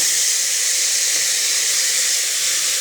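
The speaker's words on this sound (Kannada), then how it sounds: "ಇವಾಗ ಹೆಚ್ಚಿಟ್ಕೊಂಡಿರೋ ಟೊಮೊಟೊನ ಹಾಕಿ ಫ್ರೈ ಮಾಡೋಣ" Steady, loud sizzle of chopped tomatoes frying in hot oil in a pan, a continuous broadband hiss holding at an even level for the whole stretch with no voices.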